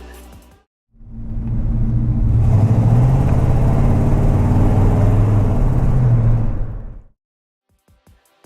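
Engine of a 1989 Chevy 3500 truck fitted with a new exhaust and mufflers, a steady deep rumble from a nearby idle that holds for about six seconds before cutting off, with no talking.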